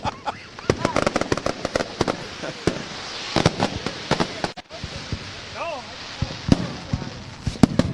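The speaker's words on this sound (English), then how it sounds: "Mac, the fireworks continue to go here" Fireworks bursting over a race track at a crate racing event, a rapid series of sharp cracks and booms with some whistling rockets, loud and close, with crowd or voices faintly underneath.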